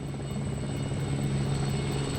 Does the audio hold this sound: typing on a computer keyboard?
no